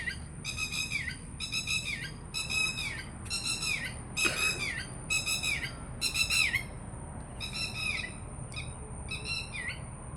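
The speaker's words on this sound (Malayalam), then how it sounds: "ഇതിൽ വെറൈറ്റി കിളികളൊക്കെ ഉണ്ട്." Several kinds of birds call outdoors, with repeated bright squawking and whistled phrases in short bursts over a steady hiss of ambient background noise, moderately near and with no voices.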